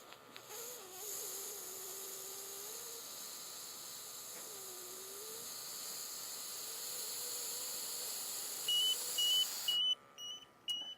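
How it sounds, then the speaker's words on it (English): A handheld gas detector used for confined-space work goes into alarm after being breathed on, a faint warbling tone followed by a few loud, repeated high beeps near the end. "I'm going to breathe into this instrument and send it into alarm"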